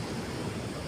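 Water rushing through the gates of the Polavaram dam spillway, heard as a dense, even roar of broadband noise, close and continuous with no voices.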